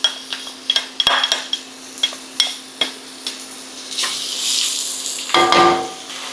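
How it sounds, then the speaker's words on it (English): Onion sautéing in pork fat, with repeated sharp utensil taps and scrapes against the pan over a soft sizzle that swells into louder stirring and frying toward the end. "So now we're going to be adding in our onion and we're going to saute them until nice and soft"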